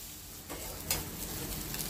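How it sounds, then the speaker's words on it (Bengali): Soybean chunks frying in a small amount of oil, giving a steady low sizzle with faint stirring scrapes and a brief louder crackle partway through. "তাই জন্য আমরা এটা তেল কম দিয়ে ভেজে রাখানোর চেষ্টা করছি"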